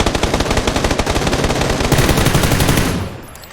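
Rapid automatic gunfire from the battle royale game PUBG, a loud, steady burst of closely spaced shots lasting about three seconds before cutting off, with no voices over it.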